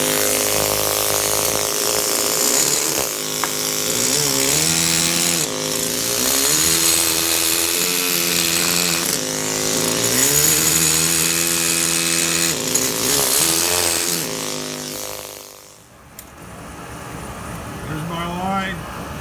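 A power tool grinds and cuts through a granite block, its loud, wavering whine rising and falling across repeated passes, then briefly dropping away near the end.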